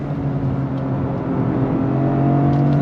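Engine of a 2023 Toyota GR Corolla Circuit Edition with a 6-speed revving hard against the brakes up to 7,000 RPM, a loud steady drone whose pitch climbs gradually, close and alone without talk.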